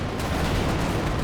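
Panther tank main gun fire in the World War II strategy game Company of Heroes 2, a dense continuous roar of battle noise with booming shots, loud and unbroken.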